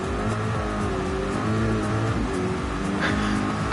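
A Corvette race car in a racing video game at a wet Suzuka circuit revs hard and accelerates, its engine droning loud and continuous with shifting pitch.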